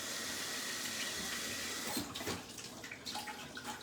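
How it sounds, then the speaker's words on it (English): Tap water running steadily while hands are washed in a home kitchen during meatball cooking, a continuous close rushing stream with splashy disturbances from the hands toward the end. "Let me wash my hands again now."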